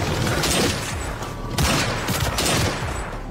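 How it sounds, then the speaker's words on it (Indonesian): Gunfire in a film scene comes as a dense, loud fusillade of rapid shots, with bursts that swell and fade and a few heavier booms. "tembakan Sang Biao meleset dengan sempurna"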